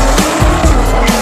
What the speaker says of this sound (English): ended up in a drag race against a GTR